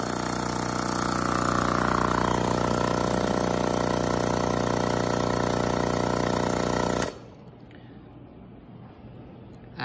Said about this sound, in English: Here is a demonstration with the pump turned on.